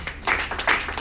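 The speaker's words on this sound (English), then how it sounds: "Let's give a round of applause for that." Audience applause at a product pre-launch event, short and uneven, with bursts of clapping swelling and easing over about a second.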